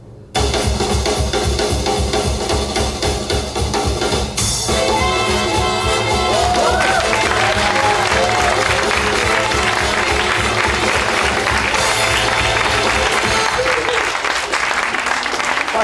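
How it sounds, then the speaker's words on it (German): Audience applause after a magic trick at a culture-week stage show, loud dense clapping from a crowd that swells after a brief pause and carries on steadily, with some voices mixed in. "der anschließende Applaus ist dir sicher"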